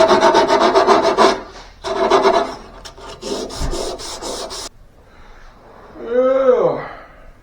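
Wood being sanded by hand on a 2x4, loud rhythmic rasping strokes in bursts with brief pauses, followed near the end by a short sliding squeak.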